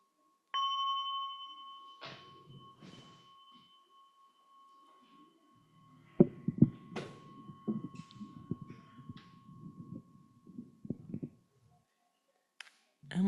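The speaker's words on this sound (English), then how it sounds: "And with this bell, we can stand." A meditation bell rings out once in a sangha session, its clear tone sustaining and slowly fading for several seconds, then soft rustling and movement as people stand, with a few faint knocks near the end.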